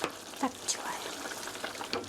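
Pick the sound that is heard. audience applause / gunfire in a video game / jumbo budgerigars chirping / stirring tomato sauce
stirring tomato sauce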